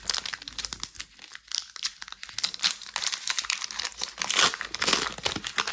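A Pokémon card booster pack's foil wrapper crinkles and tears open close up, a continuous crackly rustle that swells louder toward the end.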